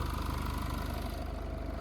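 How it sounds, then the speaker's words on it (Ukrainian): A Citroën C-Crosser 2.2 diesel 4WD engine idles with a steady, even low chug and a regular pulsing beat, heard fairly close and quiet, with no voices. "двигунчик працює чітко, рівненько"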